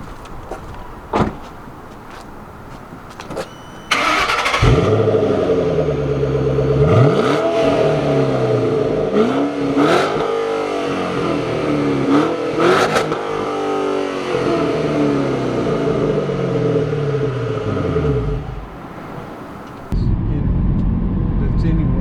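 A 2010 Shelby GT500 engine starts with a thump, then revs up and down repeatedly, loud and close, before cutting off with a click near the end.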